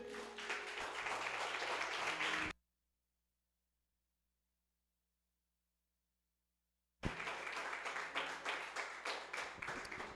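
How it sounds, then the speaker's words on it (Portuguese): A church congregation bursts into dense, sustained applause at an evening service. The clapping stops abruptly into silence, then resumes just as loudly. "aplauda ao Senhor nessa noite."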